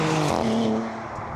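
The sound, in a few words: Maserati GranTurismo car driving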